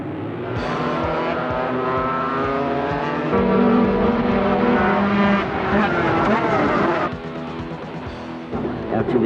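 A go-kart powered by a Yamaha V-twin engine running, a loud, steady buzzing engine drone that rises in pitch briefly mid-clip and dips near the end, with a voice talking over it.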